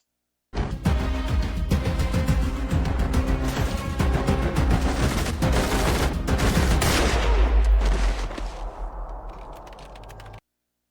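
Shootout gunfire in the TV series The Rookie: rapid, dense bursts of shots and automatic fire crackle loudly and continuously, then trail off into a fading rumble near the end.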